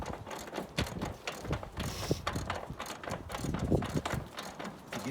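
Metal locking ring on a barrel lid being cranked tight against the rim, a close, quiet run of ratcheting clicks and clanks in an irregular rhythm.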